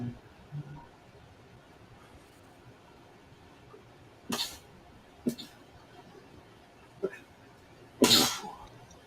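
A few sharp, brief bursts break a quiet room, the loudest near the end sounding like a sneeze.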